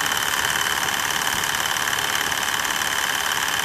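A car engine idling steadily with a constant whirring, rattling drone attributed to the AC clutch pulley, belt or idler bearing, heard close and unbroken throughout.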